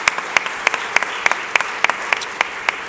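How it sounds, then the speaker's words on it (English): A modest crowd at an outdoor bike share launch in Philadelphia applauds a councilman, with sharp individual claps spaced in a loose, steady rhythm and no talk over them. "please give Councilman Squilla a big round of applause as well."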